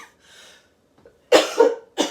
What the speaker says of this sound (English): I've had this cough. I think it's allergy.